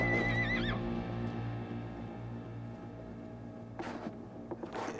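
A horse neighs loudly and close, a long whinny with a wavering start, followed by quieter snorts and shuffling near the end.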